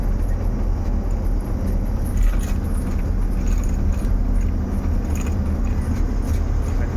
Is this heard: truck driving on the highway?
yes